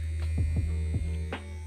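Vibrating waterproof skincare device buzzing with a steady electric hum, with a few soft brushing or rubbing sounds as it moves against the skin.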